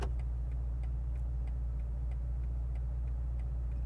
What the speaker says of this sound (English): Pretty much the same BMW indicator that we've come to know and love